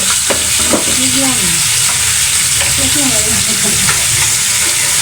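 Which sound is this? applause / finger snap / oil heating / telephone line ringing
oil heating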